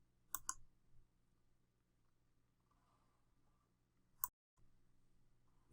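Sharp computer mouse clicks while editing in Photoshop, a quick double click near the start and another single click later, crisp and close in a quiet room.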